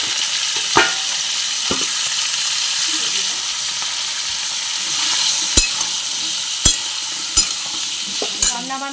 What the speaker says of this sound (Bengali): কুমড়োর তরকারিটা করব বলে কুমড়ো আর আলুটা তুলে দিচ্ছি।